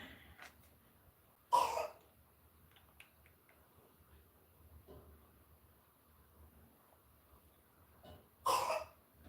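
A child coughs twice, quiet short bursts several seconds apart in an otherwise hushed room.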